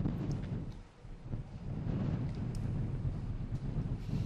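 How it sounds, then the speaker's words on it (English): Strong wind buffets an outdoor microphone on a very windy day in Houston during a military memorial ceremony, making a steady, loud low rumble with gusty swells throughout and no voices. "On what looks like a very windy day"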